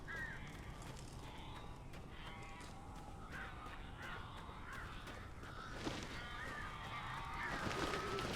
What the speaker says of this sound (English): Look at all those birds.